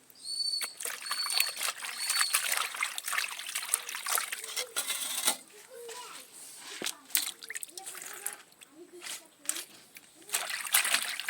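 Raw chicken skin being rinsed by hand with water in a village kitchen, giving repeated trickles, splashes and sloshing in short bursts, with someone talking over it throughout.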